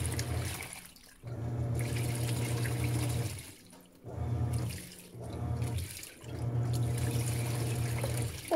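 Water runs into a Panasonic Ag+ 16 kg washing machine during its rinse cycle, a steady gushing flow broken by several short pauses, moderately loud with no voices.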